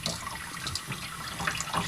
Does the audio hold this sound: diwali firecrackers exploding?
no